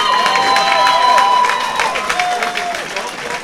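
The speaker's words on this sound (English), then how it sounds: "Ladies and gentlemen, please keep your applause going for his opponent" A boxing club crowd applauds and cheers after a bout at a St Valentine's Day fight night, with dense, steady clapping that stays loud and close before thinning slightly toward the end.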